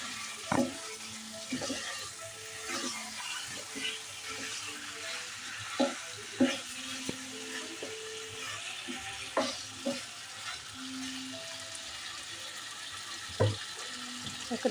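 Country chicken mixed with spices is sautéed in a pan, a quiet, steady sizzle under repeated scraping and stirring clatter, with some faint tonal clinks of utensils.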